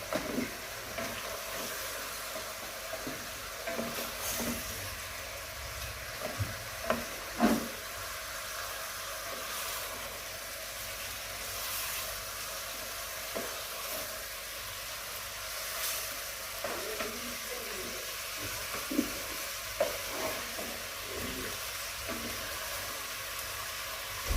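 Pieces of chicken frying in hot oil in a home kitchen pan, a steady soft sizzle and hiss with occasional scraping stirs and small clinks, faint and continuous with no talking.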